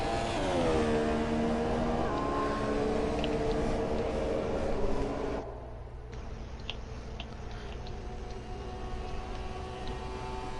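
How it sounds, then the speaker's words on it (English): A Formula 1 car in the F1 2017 video game runs at full throttle down a long straight, its loud, rising engine whine building before cutting abruptly to a quieter, distant drone. "Out of turn 7, down the long straightaways, is pedal to the metal."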